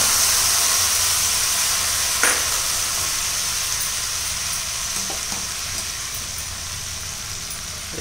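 Curry leaves tempering in hot oil for pongal give a steady, even sizzle and frying hiss throughout, with a few faint clinks of a utensil stirring near the middle.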